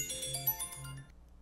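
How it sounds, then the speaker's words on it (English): A phone ringtone for an incoming call plays a bright, chiming electronic melody with steady tonal notes, fairly loud and alone, then cuts off after about a second. "Sorry, I got a phone call, had to take care of that real quick."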